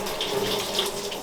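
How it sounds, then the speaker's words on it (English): A kitchen tap runs in a brief, steady stream while hands are washed during cooking, close and continuous with no talking. "always remember to go and wash your hands"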